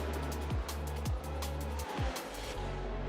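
Race cars in a racing video game at the Brazil circuit, several engines howling past in quick succession with falling pitch sweeps, tire squeal mixed in, moderately quiet overall.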